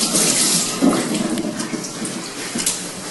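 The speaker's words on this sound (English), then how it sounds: "take your knife and rinse it because it's going to be easier to slice with a wet knife" Water runs steadily from a kitchen tap as a knife is rinsed under it before slicing sushi rolls, a continuous close hissing splash throughout.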